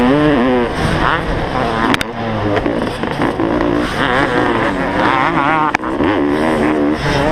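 Several dirt bikes, including a 32-year-old Honda CR500 two-stroke against modern machines, race on a sunny hillside motocross track at Foxhills, their engines revving and wavering loudly and continuously while a commentator talks over them.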